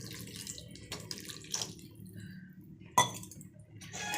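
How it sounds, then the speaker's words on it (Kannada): About a quarter glass of water goes into a masala in a pan with a few soft splashes and gurgles. A sharp clink of glass on metal sounds near the middle, all quiet and close. "ಇನ್ನು ಸ್ವಲ್ಪ ಮೇಲೆ ಸ್ವಲ್ಪ ಒಂದು ಕಾಲು ಗ್ಲಾಸಷ್ಟು ನೀರು ಹಾಕ್ಕೋತೀನಿ."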